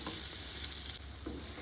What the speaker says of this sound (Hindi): तो अब हम आलू बेसन के पनीर को लेंगे और इन्हें हल्का सा तल लेंगे।